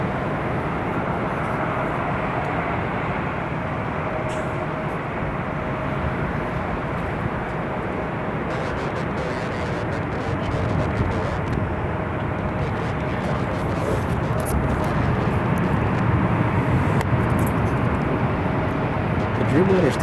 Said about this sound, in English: Next one, the A350-1000. It's getting close.